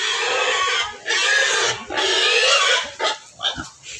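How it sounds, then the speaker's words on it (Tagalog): A pig squeals loudly in long, harsh bursts before slaughter, the cries breaking into shorter grunts and squeals toward the end. "Ngayon, titignan natin yung baboy, guys. Ayun, kakatayin na nila"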